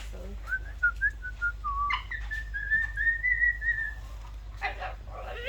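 A pet parrot whistles a wavering, rising and falling melodic tune across several seconds, alone and fairly close, with a brief rustle and a couple of faint trailing notes near the end.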